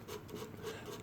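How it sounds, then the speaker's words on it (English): Rapid back-and-forth rasping of 320 grit sandpaper over fret ends on a Seagull Merlin M4 during a fret installation, steady and close. "I always find just a small piece of sandpaper is best. I'm using 320 grit."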